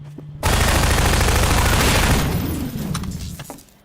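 Loud, dense SMG fire in Half-Life 2 rattles in a sustained burst for about two seconds, then tails off into scattered sharp shots and echoing impacts.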